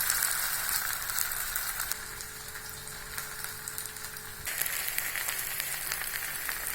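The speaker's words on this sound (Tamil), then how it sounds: "இதில் எண்ணெய் பொங்குது" Raw plantain pieces fry in bubbling oil, giving a continuous crackling sizzle with dense popping, close and steady, with no voices.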